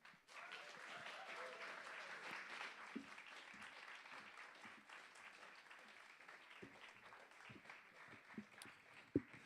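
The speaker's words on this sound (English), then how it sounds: "give our first act a massive round of applause" An audience at a live show at The Bedford applauds steadily for about nine seconds to welcome the first act, the comedian Tony Moore, onto the stage. The sound is a dense, even wash of clapping with a few louder claps near the end.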